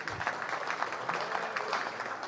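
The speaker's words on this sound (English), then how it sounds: "let's clap for Amy." Applause from a breakfast meeting audience of a business group, a continuous moderate wash of clapping hands heard at some distance for a couple of seconds.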